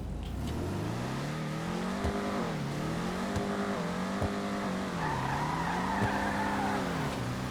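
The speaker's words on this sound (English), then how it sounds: "let's go ahead and listen to the revs" A video-game car engine with no turbo revs up and down repeatedly, its pitch rising and falling in smooth sweeps, with occasional tire-like squeals, in GTA 5 Online.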